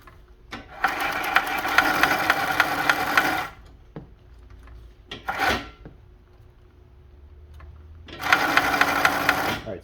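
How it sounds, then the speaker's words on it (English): A Juki LS-1341 clone sewing machine motor whirs while winding a bobbin, running in two loud sustained bursts with a brief spurt and clicks between, separated by quiet pauses. "as you can see, the bobbin is winding"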